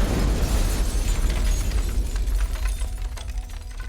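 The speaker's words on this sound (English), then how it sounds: "which is when the bomb goes off." A bomb going off in the film American Pastoral, a loud, sustained roar of blast and crumbling debris that stays dense and heavy for the full few seconds, with no talking.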